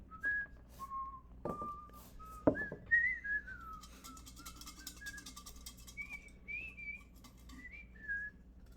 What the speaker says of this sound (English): Can I get copyright struck if I am whistling a song?